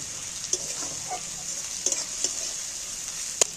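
Garlic and ginger frying in a pan, a steady soft sizzle with a few small pops and scrapes of stirring, close and moderately quiet with no voices.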